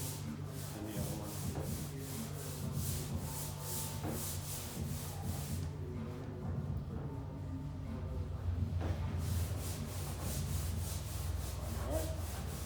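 Finer-grit sandpaper rubs over forged carbon fiber on a C8 Corvette part in steady, rhythmic back-and-forth strokes, a close, raspy scraping that continues for the whole stretch with a brief pause midway.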